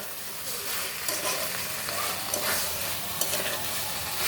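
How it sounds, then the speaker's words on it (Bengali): Spice paste frying steadily in a pan while being stirred for a long time, a dense continuous sizzle with soft scraping, close and moderately loud with no talking. "মশলাটা আমি অনেকক্ষণ ধরে কষিয়ে নিলাম"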